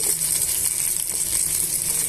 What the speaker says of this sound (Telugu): ఈ పోపునంతా కూడా వేయించేసుకుందామండి